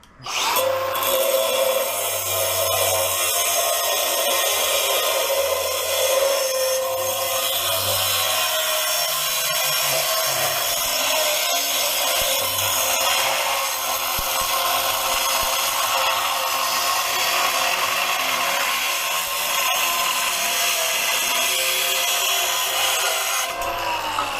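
An angle grinder fitted with a Diablo diamond grit blade cuts through solid steel with no guard on, a loud, sustained abrasive whine and grinding roar that runs unbroken for over twenty seconds.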